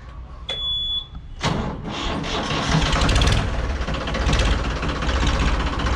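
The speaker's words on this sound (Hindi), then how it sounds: "एक बार स्टार्ट करके दिखाइए" A Ford 3600 diesel tractor with its original silencer cranks and catches, then settles into a loud, steady close-up idle; a short high beep sounds just before the start.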